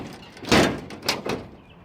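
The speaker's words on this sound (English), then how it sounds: "The door, it doesn't shut quite perfectly because it rubs along the roof line here." A car door on a 1962 Chrysler 300 swings shut, rubbing along the roof line, with a firm close and then a couple of smaller knocks and scrapes as it settles, heard up close with no talking.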